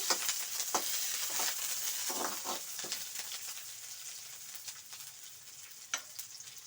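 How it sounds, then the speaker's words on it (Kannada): Onions frying in a pan for a ridge gourd gravy, a steady broadband sizzle with scattered crackles and a few louder stirring knocks, moderately close, no talking. "ಈರುಳ್ಳಿ ಎಲ್ಲ ಸ್ವಲ್ಪ ಫ್ರೈ ಆಗಲಿ"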